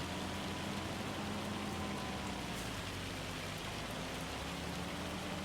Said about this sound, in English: That's not rain. That is definitely hail.